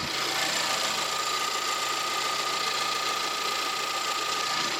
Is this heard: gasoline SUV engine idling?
yes